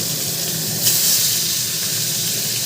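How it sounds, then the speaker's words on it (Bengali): A kitchen chimney exhaust hood runs at high speed during fish frying, giving a steady, loud broadband whoosh with a constant airy hiss throughout. "আমার চিমনি চলছে এই যে চিমনি চলছে তাই এরকম আওয়াজ হচ্ছে"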